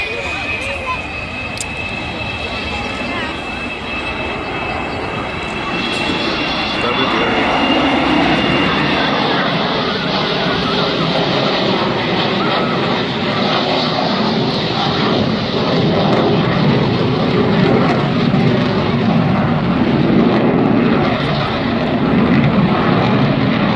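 An Avro Vulcan bomber flies at the Cleethorpes air show, its broad jet roar building and holding loud and sustained over a long pass, with a faint whine early on and no clear talk.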